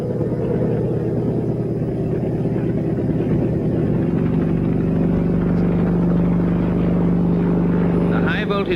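Helicopter engine and rotor drone during a 1963 big-freeze power-line job, a steady low heavy roar that continues unbroken, with a brief higher sound near the end.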